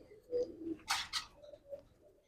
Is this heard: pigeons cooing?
yes